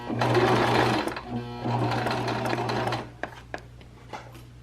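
Sewing machine stitching down gathered fabric for a summer top, a loud steady humming run that pauses briefly, resumes, then stops and is followed by a few soft clicks and taps.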